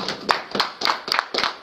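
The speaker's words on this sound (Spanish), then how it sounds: "para quien pido un aplauso" A small audience claps for guest Mariana Zamudio, close, sharp hand claps in a quick uneven rhythm, few enough to hear individual hands.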